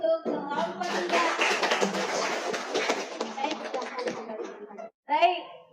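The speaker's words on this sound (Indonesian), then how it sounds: "Tepuk tangan dulu untuk kelompok 3." Students clapping in a classroom after a group presentation, a close, fairly loud burst of many hands with some voices mixed in, fading out near the end before a brief voice.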